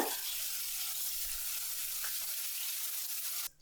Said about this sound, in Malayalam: ചിക്കൻ ഒന്ന് ഫ്രൈ ചെയ്തെടുക്കണം